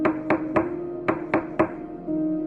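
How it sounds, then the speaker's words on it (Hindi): Knocking on a wooden door: six sharp, ringing knocks in an uneven rhythm, close and clear, followed by a short steady hum. "दरवाजा खटखटाते हैं।"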